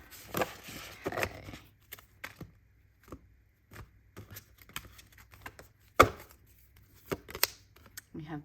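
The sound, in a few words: shuffling felt tarot deck cards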